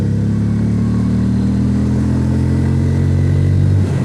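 A motorcycle engine drones steadily at moderate revs during a braking test, loud and close, with the pitch dropping slightly near the end as it slows.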